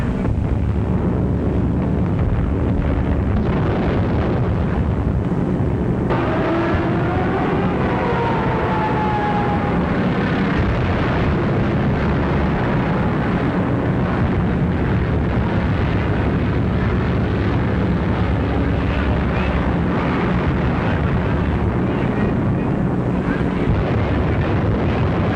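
Bombing-raid explosions and aircraft from a 1943 wartime propaganda film, a continuous loud roar of engines and blasts with a faint descending whine, under the constant hiss of an old soundtrack.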